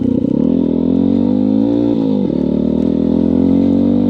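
A new 2024 WK Scrambler 125cc motorcycle engine runs loud and close while riding in third gear, holding a steady droning note, then dropping revs briefly before climbing again.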